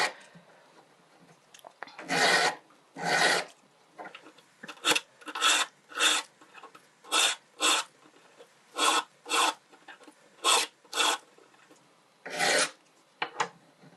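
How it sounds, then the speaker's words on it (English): A coarse emery stick rubs around the edges of fused silver earrings in short, gritty strokes. They come in uneven bursts with small pauses between, heard up close in a quiet room with no speech. "This is quite a coarse emery stick. You can go from anything from 800 up to 1000 because you need it quite coarse."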